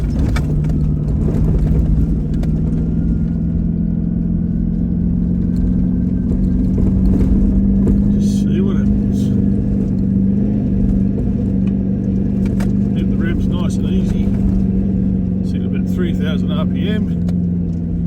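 An off-road vehicle in low range, engine droning steadily at low revs with a constant rumbling hum, heard from inside over rough terrain with occasional knocks and rattles and people talking.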